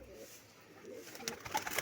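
Pet pigeons coo softly nearby, a few low, faint murmurs rising toward the end over quiet background.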